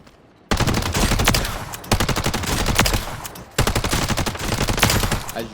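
Holger gun firing in the Warzone video game in three rapid automatic bursts, each a loud, dense stream of close shots with brief pauses between.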